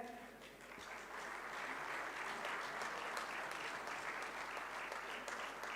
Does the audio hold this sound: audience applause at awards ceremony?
yes